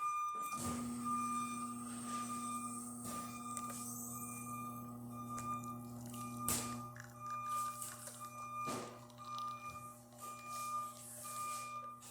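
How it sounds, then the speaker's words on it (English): A Profitec Pro espresso machine, freshly serviced, pulls a shot with a steady low pump hum and droning tones throughout, plus a few small clicks and knocks, close and without talk. "let's go ahead and test it and make espresso shot on it"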